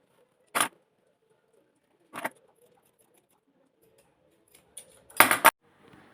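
Scissors cut through a 1.5 metre strip of jacquard fabric in a few separate snips, crisp and close, with quiet pauses between them and one longer, louder run of cutting near the end.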